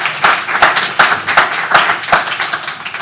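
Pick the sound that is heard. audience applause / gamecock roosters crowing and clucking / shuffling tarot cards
audience applause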